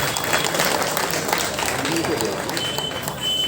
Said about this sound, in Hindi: एक बार जोरदार तालियां सभी के लिए भाई।